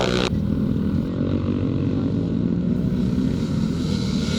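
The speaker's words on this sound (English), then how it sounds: "That's the Michael chassis with the 4-stroke" A vintage motocross bike on a Michael chassis with a 4-stroke Rotax motor races at a classic motocross meeting in Penrith, giving a continuous loud engine drone that holds steady throughout.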